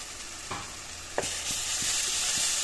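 Spice paste for an Assamese-style fish curry frying in a pan, a steady hiss of sizzle with several sharp scrapes and knocks of a spoon stirring it, close and fairly loud throughout.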